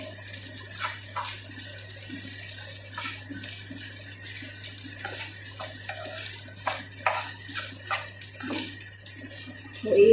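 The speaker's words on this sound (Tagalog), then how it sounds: "So, ihalo natin ulit siya." Leftover food being recycled is stirred in a pan, with scraping strokes and soft wet shuffles over a low steady hum. The movements come in uneven bursts, moderately close, with no talking.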